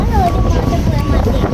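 Steady outdoor gusts rumble against the microphone, making a heavy, continuous blustering noise. People talk faintly underneath.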